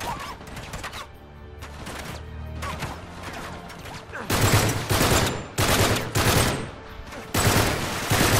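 Rapid bursts of Uncharted 3 gunfire crackle in dense, loud volleys, with automatic fire rattling in clusters that grow heavier and more intense toward the end.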